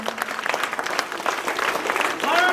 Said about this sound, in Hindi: बहुत तेज आवाज में ताली बजनी चाहिए